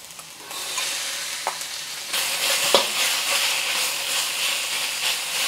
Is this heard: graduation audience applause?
no